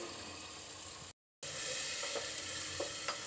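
Finely chopped tomatoes sizzle steadily in cooking masala for a chicken chana dal dish, a constant bright frying hiss with a brief break and a few soft stirring scrapes, close and without talk.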